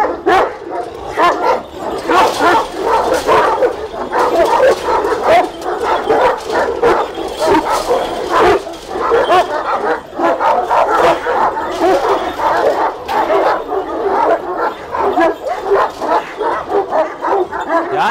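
Kangal dogs on an Anatolian Kangal farm bark nonstop for about eighteen seconds, several dogs overlapping in a loud, dense chorus of deep barks and yips.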